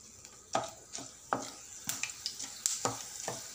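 Coriander seeds dry-frying in a kadai, heard as a series of sharp stirring scrapes and rattles against a faint sizzle, close and intermittent, with roughly ten distinct strokes.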